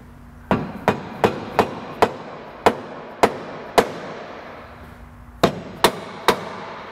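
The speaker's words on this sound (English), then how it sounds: "So I'm just going to use this hammer to tap this side back." A hammer strikes a metal car K-member in a series of sharp, ringing taps, about a dozen blows at a steady pace with a short pause midway.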